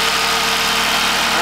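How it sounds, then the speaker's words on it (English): An asynchronous generator's engine keeps turning after shutoff, giving a loud, steady mechanical hum with a constant tone and no pauses. "The engine is no longer running,"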